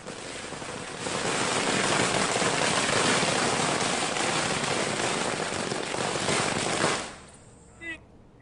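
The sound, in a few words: fireworks set off at a politician's residence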